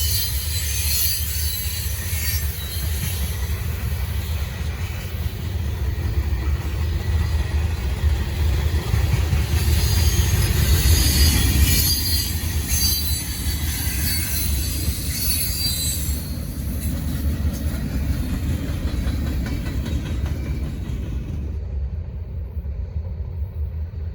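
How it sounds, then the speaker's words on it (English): A long Norfolk Southern freight train with Canadian Pacific and KCS hoppers rumbles past close by, with steady rolling wheel noise and clatter, easing off near the end. "Lots of Canadian Pacific and KCS hoppers on this train."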